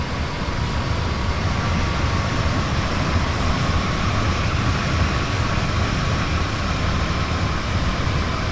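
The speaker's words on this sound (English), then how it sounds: "That's a beautiful train." Steady broadband rumble of a Stadler RABe 523 electric multiple unit running at speed between Luzern and Sursee in Train Sim World 2, a continuous loud drone with a faint tonal whine and no talk.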